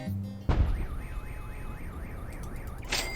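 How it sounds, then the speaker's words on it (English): A car alarm in the Henry Stickmin video game blares a repeating warbling wail after a loud blast from a struck gas line, continuing steadily with no talk over it. "then the Alarm goes off from the car there"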